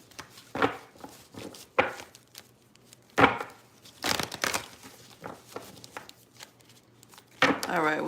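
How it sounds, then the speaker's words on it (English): Tarot cards are shuffled up close in irregular bursts of riffling and sliding, with quiet pauses between handfuls and soft rustles throughout. "we'll do one more shuffle here."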